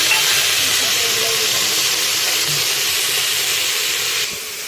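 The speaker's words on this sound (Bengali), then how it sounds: "এই সময় দিয়ে দিচ্ছি কেটে রাখা টমেটো" Chopped tomatoes go into a pan of frying vegetarian daliya khichdi, made without onion or garlic, giving a steady loud hiss and sizzle that fades a little near the end.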